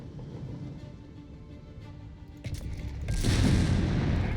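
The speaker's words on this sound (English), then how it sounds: "Light infantry Geschütz firing away there." In Company of Heroes 3, an Afrika Korps light infantry gun fires amid battle, with booming shots and gunfire building into a louder, denser barrage near the end.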